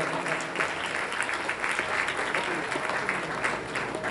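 Sustained applause fills an award ceremony hall at a satsang grand finale, a thick, even roar of many hands clapping at once.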